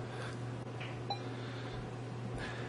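An AKA Signum metal detector holds a faint, steady low threshold hum, broken by a few short, quiet beeps.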